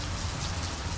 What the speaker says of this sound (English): it is rainy and nasty